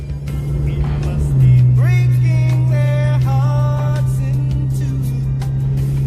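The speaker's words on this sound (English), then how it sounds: "Let this loud ass dump truck pass this dump truck" A heavy dump truck engine drones steadily nearby with a low rumble and whining gear tones as it rolls past, loud throughout.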